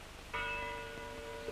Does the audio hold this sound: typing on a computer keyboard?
no